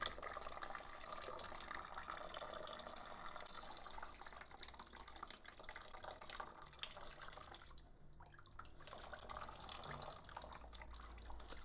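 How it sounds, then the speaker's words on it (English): Leftover coolant drains from the cylinder head of a Triumph Speed Triple motorcycle, a steady close trickle and splash of liquid that runs continuously with a short dip partway through. "it's just literally draining the head of any fluid that's remaining inside there"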